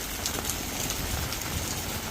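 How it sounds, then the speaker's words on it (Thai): Heavy rain pours down steadily over a garden of rose bushes, a dense, even hiss of drops on surfaces with no pauses and no voices. "ตอนนี้ฝนตกหนักมาก"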